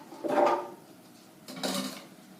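Two light clattering thumps as chopped carrot pieces drop into a Vitamix blender container, a short hollow plasticky rattle, a pause, then another.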